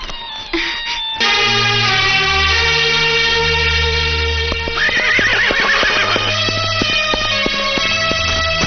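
A horse neighs loudly and close, a long wavering whinny that rises and trembles, set against a dense musical backdrop with faint hoof-like clops.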